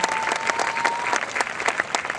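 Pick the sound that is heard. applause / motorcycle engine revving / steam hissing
applause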